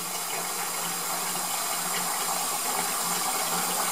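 Water pours steadily from a tap into a container, a continuous bright hissing rush that stays even and close throughout.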